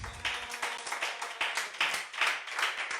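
A church congregation claps in praise during a French-language sermon: quick, lively, rhythmic claps, fairly close and steady for the whole stretch, with no clear cheering.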